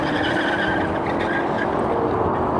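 During a drag race between a Mercedes-AMG E63 S, BMW M5 and Audi RS5, one car's tyres spin and it slides sideways, giving a loud, rough tyre roar over a straining engine drone, with no talking.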